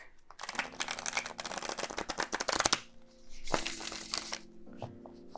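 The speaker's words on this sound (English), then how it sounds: "you want to learn how to shuffle on an already broken in deck or maybe a plastic deck" A Light Seer's Tarot card deck is shuffled in repeated quick riffling bursts, crisp papery flutters close by, with a pause midway and a few softer shuffles after; no one speaks.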